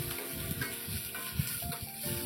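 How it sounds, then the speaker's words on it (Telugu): Chopped tomato and spices frying in a pan for a South Indian sambar made without dal, a soft steady sizzle with occasional stirring clinks and taps, close and fairly quiet. "వీటన్నింటినీ బాగా వేయించండి. స్లైట్గా వేయించాలి."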